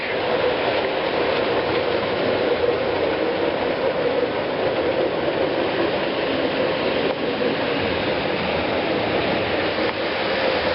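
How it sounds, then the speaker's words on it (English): A tank train creeps slowly past at close range, a continuous broadband roar with faint rolling clatter holding even for the whole stretch. "there's a tank train going by, nice and slow, creeping along"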